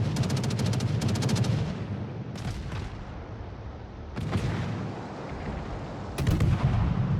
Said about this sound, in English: Time to get the guns working, Rocket.